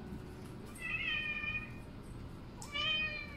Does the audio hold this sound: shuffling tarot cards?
no